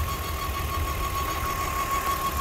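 A car engine running rough and misfiring idles close by as a steady mechanical drone with an uneven, knocking pulse beneath a thin high whine, with no voices.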